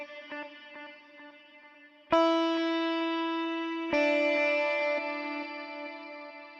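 A guitar played through a shimmer reverb effect: two strummed chords ring out sharply and sustain into a long, bright, harmonically rich wash that slowly decays, preceded by quieter picked notes.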